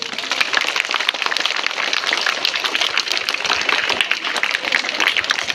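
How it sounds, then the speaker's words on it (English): Audience applause at a school sports, literary and cultural meet closing ceremony: a steady, crackling wash of many hands clapping at once, loud and sustained throughout with no break. "Let us once again give a big round of applause."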